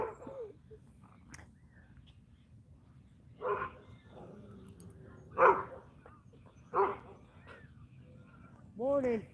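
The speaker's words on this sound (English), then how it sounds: "we got another dog here" A passing dog gives a few short barks and whimpers at scattered moments, fairly close, between stretches of a person talking outdoors in the morning.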